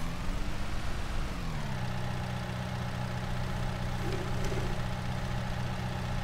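A New Holland tractor engine in Farming Simulator 19, a steady low diesel drone whose pitch drops early on and then holds an even idle-like hum, moderately close and alone without talk.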